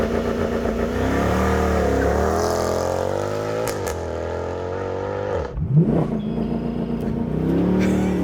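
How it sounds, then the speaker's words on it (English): A Mercedes C63 AMG 507 coupe launches from a standstill with its engine revving high and pulling hard through the gears, then a sharp gearshift dip and renewed acceleration, loud and close throughout. "Then you just hold the brake and you floor the accelerator pedal, let off the brake, you're launching."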